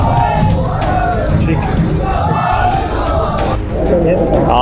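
A large crowd of Mauganj supporters at a BJP nomination rally cheers and shouts continuously, a dense roar of voices with scattered yells, close and loud, while someone briefly speaks.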